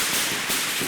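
Firecrackers burst in quick succession, loud and close, with broadband cracks repeating across under a second and no one talking.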